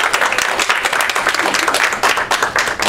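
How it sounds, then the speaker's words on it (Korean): A Sunday church congregation applauds to welcome a missionary couple, with loud, close, dense clapping that pulses unevenly and continues for the whole stretch. "우리 박수 한번"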